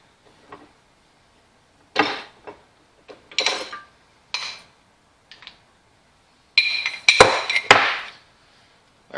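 Close metallic knocks and clunks as an Allis Chalmers WD45 piston and connecting rod are pressed apart using an 11/16 deep well socket in a shop; several separate hits and scrapes with quiet gaps between them.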